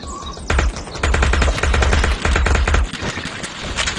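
Automatic gunfire in the Aim XR VR shooter game: several rapid bursts of loud, close shots with short pauses between them, heard alone.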